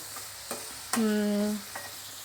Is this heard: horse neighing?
no